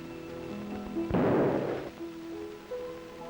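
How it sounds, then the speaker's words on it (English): A short fuse fires coarse black powder packed into a gun driven into the center of a log, and the charge goes off in one loud, rough blast that splits the wood, lasting under a second amid steady background hum. "The explosion splits the log in halves"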